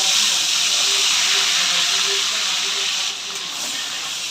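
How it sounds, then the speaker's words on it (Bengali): Prawns frying in hot oil in a wok give a loud, continuous sizzling hiss that stays steady from start to end, dipping slightly near the close. "এবার চিংড়ি মাছগুলো আমি ভেজে তুলে নেব।"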